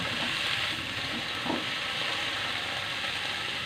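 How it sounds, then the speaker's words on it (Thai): Lotus stems being stir-fried in a hot pan, a steady loud sizzle of frying oil with a brief scrape of stirring, close and continuous, with no talking. "ใส่บัวลงไปผัดให้เข้ากัน"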